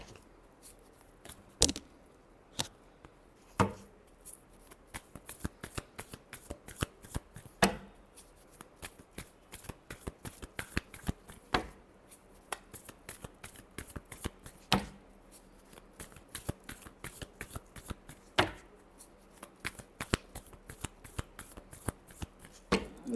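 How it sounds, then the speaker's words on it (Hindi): Tarot cards being shuffled by hand, repeated soft riffling and papery flicks with sharp card snaps every second or so, quiet and close throughout. "Last shuffle."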